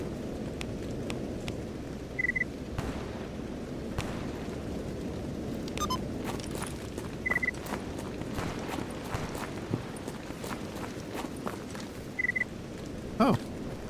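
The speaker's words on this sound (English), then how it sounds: "Raining once again." Rain patters steadily on a surface in the video game S.T.A.L.K.E.R. GAMMA, mixed with scattered thuds like footsteps. A short beeping tone repeats every few seconds.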